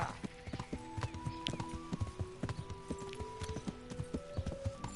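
Rhythmic clip-clop of horse hooves at a steady trot in the video game Kingdom Come: Deliverance, fairly close, with a horse whinnying and faint game-like background tones.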